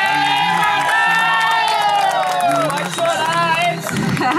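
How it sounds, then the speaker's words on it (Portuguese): Guests at a birthday party in Guarulhos for grandfather Osvaldo cheer and clap loudly together, a dense crowd of shouting voices and excited children rising over steady applause, with people talking amid the celebration. "De palmas pra ele, porque ele merece."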